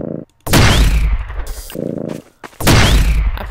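A PEB gun fires in Garry's Mod, two loud, heavy booming blasts about two seconds apart, each followed by a rumbling decay.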